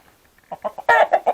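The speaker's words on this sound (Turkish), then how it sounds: "Evet arkadaşlar horozlarımızda bunlar." Several short clucking calls from a rooster, close by, coming in irregular bursts that grow louder toward the end.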